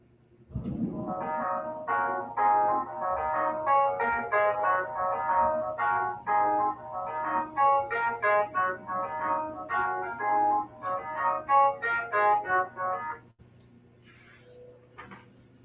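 An electronic keyboard plays a quick, bright run of melodic notes at moderate volume, steady for about thirteen seconds before stopping abruptly, with a faint low hum underneath.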